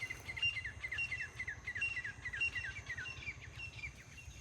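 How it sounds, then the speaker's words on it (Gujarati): Birds chirping at dusk as night begins to fall: a steady string of repeated high, bright calls at moderate distance, with a soft low insect-like drone underneath and no voices. "પક્ષીઓનો એકદમ મસ્ત મસ્ત અવાજ આવે"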